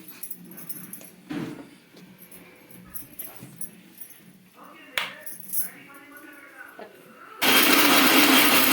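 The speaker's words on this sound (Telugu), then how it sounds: "ఫస్ట్ పచ్చి కొబ్బరి అయితే మిక్సీకి అయితే వేసుకోవాలి" A mixer grinder whirs loudly for the last second or so, grinding chopped fresh coconut for chutney, after scattered clinks and kitchen clatter with bits of talk.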